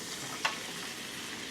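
Sliced Vidalia onions cooking in a pan, a continuous close frying sizzle with one brief clatter as they settle.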